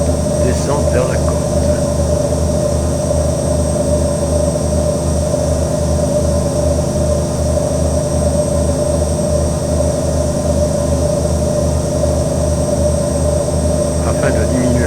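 Steady, loud drone of an airplane engine in flight while descending toward the coast over a southern island, continuous and even throughout with a low rumbling hum and no talk.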